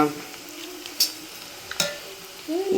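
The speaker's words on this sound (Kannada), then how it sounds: "ಇಲ್ಲಿ ನೋಡಿ ಎಣ್ಣೆಗೆ ಬಿಟ್ಟದಷ್ಟೇ ಈಗ" Food dropped into hot oil in a pan fries with a soft, steady sizzle, joined by a couple of brief utensil clinks and stirring scrapes, fairly quiet throughout.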